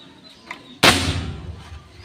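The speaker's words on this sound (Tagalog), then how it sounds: "Lakas guys yung putok nya" One loud, sharp gunshot from a homemade bullpup gun fires close by, followed by a reverberant decay. A faint click comes just before it.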